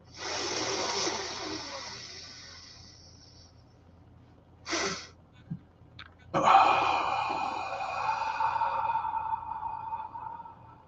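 Person in a guided breathing exercise, with a long breathy exhale that fades, a short sharp intake, then a deep sustained inhale, close and alone without talking.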